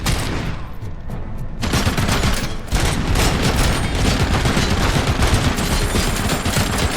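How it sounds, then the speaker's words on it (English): Sustained automatic machine gun fire in the RoboCop: Rogue City video game, a loud continuous roar of rapid shots that fills nearly the whole stretch, with a brief thinner lull near the start before the barrage resumes steadily. "Man, those machine guns do a lot of damage"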